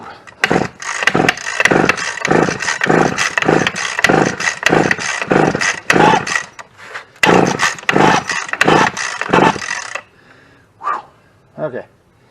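Stihl 015L chainsaw with the choke wide open and the throttle held, its small two-stroke engine sputtering through a long run of rapid, loud pulses before cutting out, followed by a couple of brief bursts.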